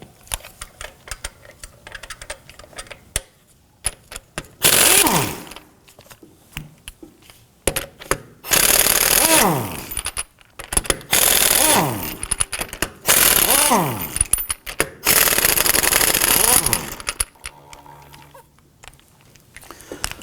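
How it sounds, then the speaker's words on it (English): Lug nuts on a 2005-2009 Subaru Legacy loosened and removed with a thin-wall 19mm socket on an impact gun, several loud ratcheting bursts of a few seconds each, separated by quieter handling sounds. "Using a thin wall 19mm socket, we're going to go ahead and loosen and remove our lug nuts here."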